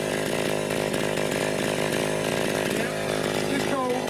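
A vintage Echo PB-202 backpack leaf blower runs at full throttle with its small two-stroke engine droning loud and steady and close by, a continuous buzzing roar that holds throughout.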